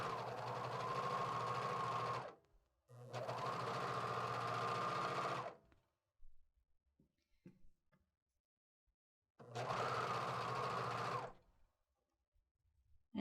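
An overlocker serges and trims the hem of a T-shirt in three loud, close bursts of rapid buzzing, separated by quiet gaps filled with small clicks and fabric handling.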